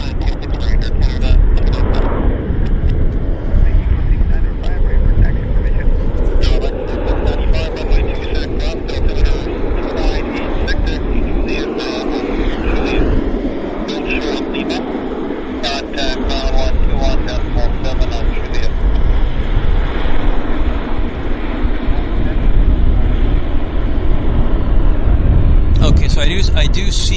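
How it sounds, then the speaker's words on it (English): An Air Canada Boeing 737 Max arriving from Denver lands at Vancouver Airport, its engine roar loud and broad, swelling and easing while a person speaks over it. "I do see our Air Canada Max inbound from Denver."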